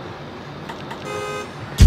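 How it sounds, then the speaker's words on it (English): A car horn in a New Jersey residential street sounds one sharp, loud honk at the very end, after a stretch of low traffic rumble and faint higher tones. "Someone's honking."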